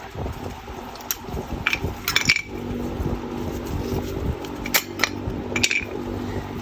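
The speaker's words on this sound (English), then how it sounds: "your equipment and your brake pads should be able to pop out real easy, just like that." Metal brake pads clink and snap out of the front caliper bracket of a 2016 Kia Soul, several sharp close clicks and rattles over a low background hum.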